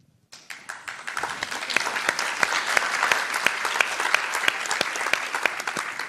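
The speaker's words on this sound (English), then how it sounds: "I think that will get a clap" Audience at a talk on democracy and environmental crisis breaking into steady, sustained applause, a dense wash of many hands clapping with sharp individual claps standing out, loud and continuous after a brief quiet start.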